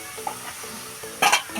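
Cauliflower curry being stirred in a frying pan, a soft sizzle with light scraping of the spoon and a brief louder clatter near the end.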